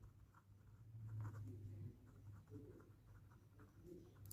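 Pen or marker scratching across paper or a board while a maths solution is worked out, a soft continuous scribbling texture with a low steady hum underneath, close and moderately quiet.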